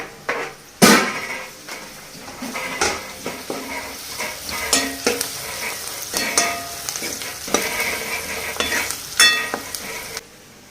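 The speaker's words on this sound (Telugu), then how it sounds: "వేగిన తర్వాత అందులో పావు టీ స్పూన్ పసుపు అలాగే కచ్చా పచ్చాగా దంచుకున్న వెల్లుల్లి వేసుకోవాలి" Onions frying in oil with turmeric and crushed garlic, for an egg curry, make a continuous close sizzle broken by frequent spoon scrapes and knocks against the pan, and nobody speaks.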